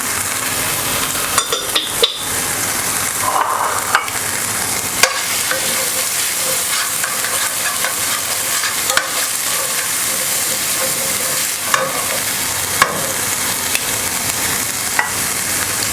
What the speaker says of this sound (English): So we'll add our ginger and our garlic. And also our onion.